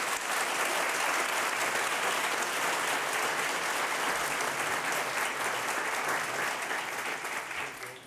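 A crowd at a 2018 county swearing-in ceremony gives a long, full round of applause for newly elected and re-elected officials, with steady dense clapping that fades near the end.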